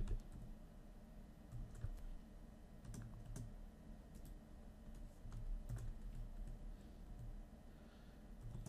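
Computer keyboard typing in a design tutorial, a steady run of light clicks and taps at moderate distance over a low background hum, with no talking.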